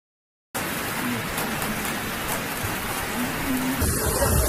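Heavy rain pours during a hailstorm, a dense, steady roar that starts abruptly and continues without pause.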